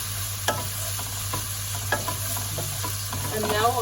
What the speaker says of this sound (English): the onions are getting nice and softer now, and it's got that nice golden yellow taste look to it